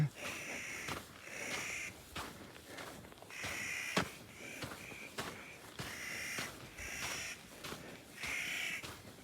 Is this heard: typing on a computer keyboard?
no